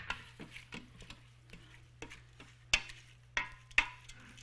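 Old-fashioned oats stirred into water, three cups of each, with a spoon scraping through the mix in a series of soft, evenly spaced strokes over a low steady hum, a few louder clacks near the end.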